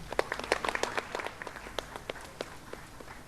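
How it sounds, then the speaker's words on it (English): An audience at a careers seminar claps in a brisk, uneven patter of separate hand claps that thins out over a few seconds, moderately close with no talking. "Have a huge round of applause for her."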